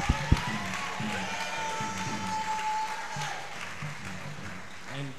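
Congregation clapping at a revival tent meeting, steady moderate applause that carries on for several seconds, with a couple of sharp thumps near the start and faint voices mixed in.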